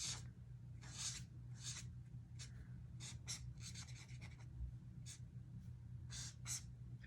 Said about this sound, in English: I'm going to color in my rope and draw myself